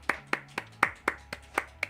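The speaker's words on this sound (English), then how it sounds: "Sam and I are both clapping to that." Two people give eight spaced hand claps at a steady, unhurried pace. The claps are crisp, nearby and moderately loud, with no talk over them.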